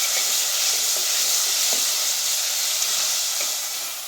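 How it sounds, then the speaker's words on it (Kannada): Finely chopped onions from two onions hit hot oil in a pan for mutton sukka, giving a steady, loud broadband sizzle throughout with a few faint stirring taps, no voices. "2 ಈರುಳ್ಳಿನೂ ಮಿಕ್ಸ್ ಮಾಡಿ ಹಾಕ್ತಿದ್ದಾರೆ."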